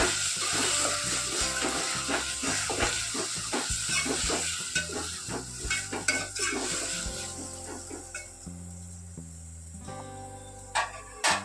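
Spinach sabji is stirred in a pan, with a spoon scraping and clinking against the metal in quick irregular strokes over a soft sizzle; no one talks.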